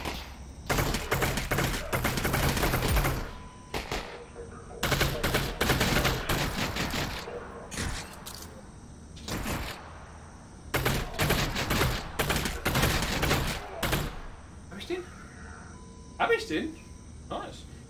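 Gunfire in the Half-Life: Alyx VR game erupts in repeated loud bursts of rapid shots, separated by short pauses, with a steady insect-like chirp of ambience in the gaps.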